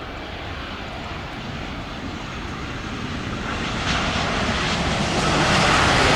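A Boeing 787 airliner lands on a runway in strong wind, its engine roar loud, broadband and steadily building as the aircraft nears, with no voices.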